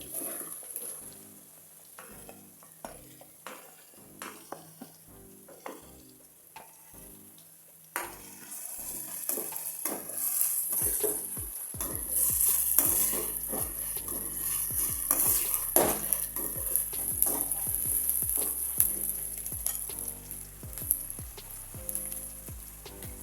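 Onions going into a pan for coconut milk pulao: quiet scattered clinks and scrapes at first, then a louder sizzle with repeated stirring knocks of a utensil against the pan, close and without talk.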